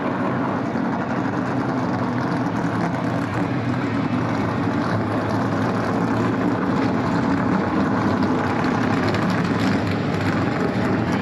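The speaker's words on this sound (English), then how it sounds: "It gives fans just a little sample of the roar of the engines" Race car engines at the 2022 Snowball Derby pre-race driver introductions give off a loud, continuous roar that holds steady from start to finish, with no voices over it.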